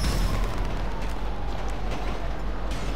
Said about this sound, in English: Firework launcher.